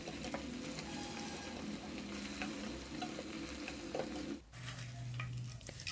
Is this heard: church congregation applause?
no